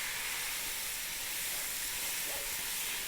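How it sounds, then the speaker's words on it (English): Sausage sautéing in a pot for gumbo gives a constant, even hiss of sizzling fat at moderate level, with no talk over it. "As it's sauteing, you could be doing other things, right?"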